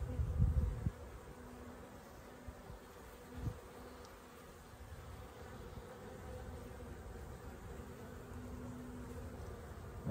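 Honeybee colony in an open hive, a faint continuous buzzing hum under a few soft bumps and handling knocks near the start.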